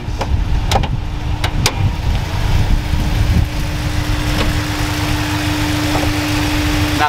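Rebuilt car engine with a reworked head, titanium valves and dual valve springs, idling steadily with a low even rumble and constant hum, a few light clicks early on, no voices.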